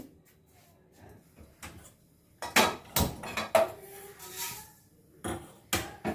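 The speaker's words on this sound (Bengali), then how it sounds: "এখানে এই ধনে, জিরে আর মৌরি তিনটে একসাথে আমি ভালো করে কড়াতে ভেজে নেব" Coriander, cumin and fennel seeds are dry-roasted together in a wok, heard as sharp scraping clatters and rattles from stirring in bunched bursts, close and fairly loud between quiet pauses.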